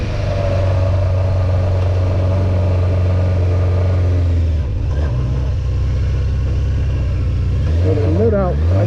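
A Honda CBR600F4 motorcycle with freshly rebuilt carburetors and an unsteady idle: a loud, close engine idle with a steady low hum, then sharp throttle blips that rise and fall near the end.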